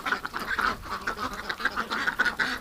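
A flock of ducks quacks in rapid, overlapping bursts outdoors in winter, the calls close and busy with a chattering rhythm throughout.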